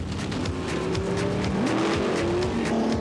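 Race cars in a New Zealand teams nationals race, 1992, roar past at close range with rising and falling engine pitch, a brief tire squeal, and overlapping motors under track noise.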